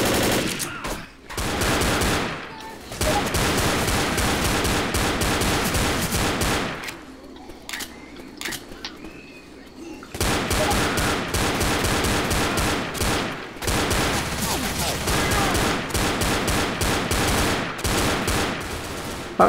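Gunfire in the video game Left 4 Dead, dense continuous automatic bursts, loud and close, dropping briefly into a quieter gap with scattered shots before the heavy firing resumes.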